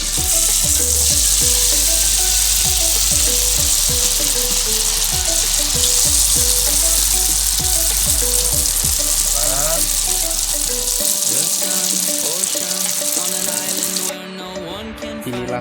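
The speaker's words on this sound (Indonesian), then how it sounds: "kita mulai menggoreng di sini" Kue cucur batter sizzles steadily in hot oil, a loud continuous crackle with occasional clinks of a utensil, then the frying fades near the end.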